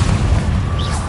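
A Confringo blasting curse explodes in the Hogwarts Legacy video game: one loud, deep, sustained boom with a rumbling low end that fills the whole moment.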